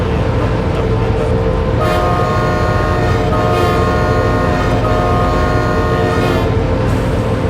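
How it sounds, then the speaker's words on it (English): A locomotive horn in the Train Simulator 2019 game on a climbing route to Cedara sounds several loud sustained blasts over a steady, heavy rumble of the train running throughout. "let's see what the horn sounds like"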